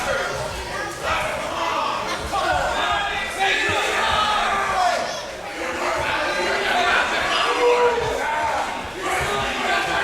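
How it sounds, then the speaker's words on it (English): A loud, rowdy wrestling crowd roars and shouts continuously, swelling in waves, while a commentator talks over the din. "Absolutely raucous crowd here."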